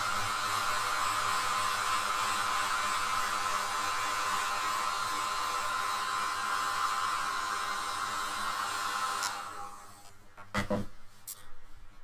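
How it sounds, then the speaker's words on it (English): A hair dryer blows with a steady, airy whir for several seconds, then shuts off, followed by a couple of faint clicks and thumps. "I'm going to take my hair dryer."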